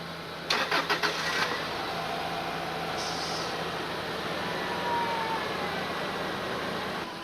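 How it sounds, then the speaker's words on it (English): A car with a dead battery, hooked to jumper cables, starts up: a brief rapid cranking stutter, then the engine catches and settles into a steady, fairly loud idle that carries on alone. "we've got the car with the dead battery started"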